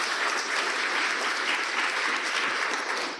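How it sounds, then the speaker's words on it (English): Steady applause from an audience at an International Women's Day event, dense even clapping that holds throughout. "One more round of applause for these guys."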